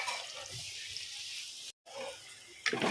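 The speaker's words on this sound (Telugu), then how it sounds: "కొన్ని వాటర్ వేస్తున్నా" Water being poured into a clay pot of goat head curry on the stove, a steady splashing pour that breaks briefly and ends with a short clatter, close and moderately loud with no talking.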